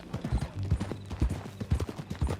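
Horse hooves clip-clop in a steady walking rhythm on the ground in the video game Red Dead Redemption 2, close and fairly quiet, with no talk over them.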